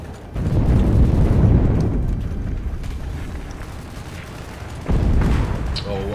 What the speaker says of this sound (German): Ich hör's halt nur explodieren.